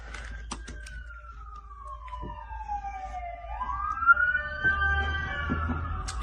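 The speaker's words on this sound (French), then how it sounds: "On a les ambulances qui vont passer." An ambulance siren passes on an American street, a wailing tone sweeping down then up while it goes by at a middle distance, with a few clicks and taps nearby.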